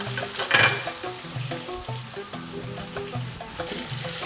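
Onions frying in a pan together with cardamom seeds, cloves and halved cinnamon sticks, a steady close sizzle with a brief louder burst early on and light stirring clinks throughout.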